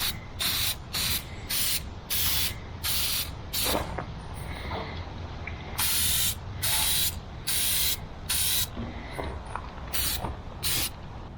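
A spray bottle of Vevor surface conditioner mists onto a rusty truck box rail in repeated short bursts, a steady rhythm of close, sharp hissing pumps over a quiet background.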